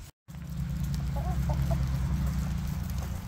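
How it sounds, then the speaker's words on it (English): A flock of chickens clucks insistently and continuously at close range, a busy overlapping chorus of farm birds after a very brief dropout at the start. "This is what it's like when the chickens are all demanding something"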